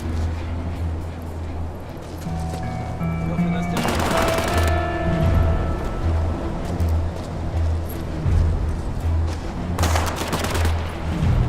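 Automatic gunfire from the War Mongrels game, sustained bursts rattling over a steady low ambient rumble, with louder volleys around the middle and near the end; no one speaks.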